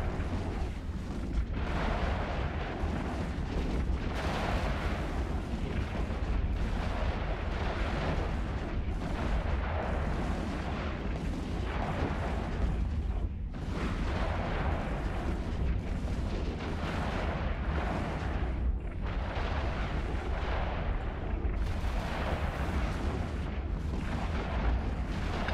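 Ship weapons in EVE Online fire nonstop in heavy, rumbling volleys against rats, a dense, loud wall of booming blasts lasting the whole stretch with no pauses.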